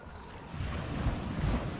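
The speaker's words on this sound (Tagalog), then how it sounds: "grabe ang kalma ng dagat." Calm sea heard from aboard a boat out on open water, a low, steady wash of gentle waves with soft wind rumble, no voices present.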